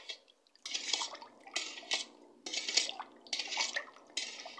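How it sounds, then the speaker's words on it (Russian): Spoon stirring sugar and salt into water in a pot to make brine for pickled tomatoes, heard as five rhythmic bursts of clinking and swishing liquid, fairly close and alone. "Размешаем."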